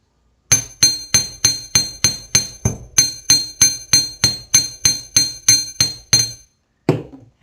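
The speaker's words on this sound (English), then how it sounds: "Hammer the curve a little bit." A steady series of about twenty sharp metallic hammer strikes on metal wire for a wire-wrapped chain link, at an even pace, ringing brightly, followed by a pause and one final tap.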